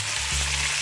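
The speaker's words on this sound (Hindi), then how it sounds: "1 मिनट हो चुका है और अब इसमें चिकन हम शामिल कर देंगे।" Chicken hitting a hot pan of sautéed chopped garlic, a loud, steady close-up sizzle with a brief stirring scrape, no voices.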